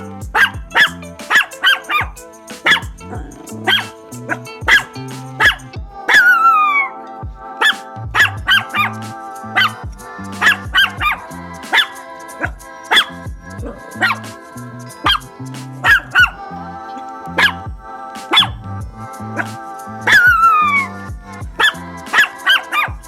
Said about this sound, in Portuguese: Cachorro Chihuahua Latindo número 3.